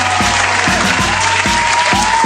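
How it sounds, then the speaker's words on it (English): Loud, steady applause during a radio talk show opening, a dense continuous clatter of hands close up with faint voices buried beneath. "You know you gotta have the applause in here."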